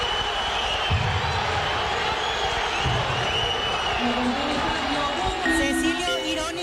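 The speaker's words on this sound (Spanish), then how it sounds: "de todo le están gritando a Cecilio en la zona de preferencia" Stadium crowd at a Paraguayan league match, Cerro Porteño against Club Guaraní, shouting and booing at a departing player from the stands, a steady dense roar with jeers rising and falling, continuous and fairly loud throughout.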